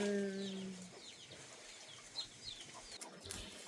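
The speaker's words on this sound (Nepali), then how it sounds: "कुखुराको चल्ला र बिरालो कराएर हैरान" Chicken chicks peep in a farmyard, thin high calls repeating irregularly at moderate distance, fairly quiet, with no talking.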